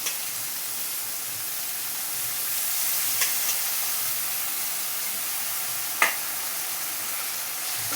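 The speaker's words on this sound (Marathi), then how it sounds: "आणि त्यामध्ये मी आता हा भाजून ठेवलेला जवळा टाकते." Roasted dried shrimp (javala) stirred with potato in a pan gives a steady soft sizzle throughout, broken by a couple of brief scraping clinks of the spoon, with no talk.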